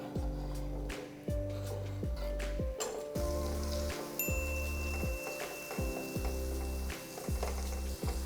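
Sausages frying in oil, a close continuous sizzle under a repeating low rhythmic tone, steady throughout with no speech.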